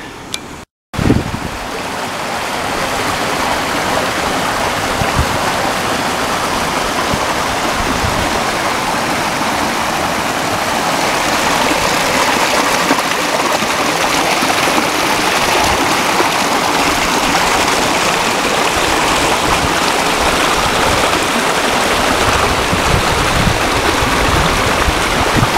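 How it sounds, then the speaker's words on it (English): Steady rushing of water spilling down boulders at a small canyon waterfall, a continuous close wash of flowing water with no voices, constant in level throughout. "it is a trickling of water down through the boulders"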